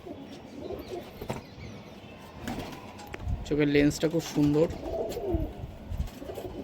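A red male desi high flyer pigeon with white eyes coos in a short run of throaty, pulsing calls close by, with someone talking before and during the cooing.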